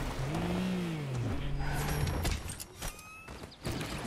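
A turbocharged car engine in the video game Fortnite revs loudly and continuously, its pitch rising and falling, with whooshing and mechanical noise layered over it.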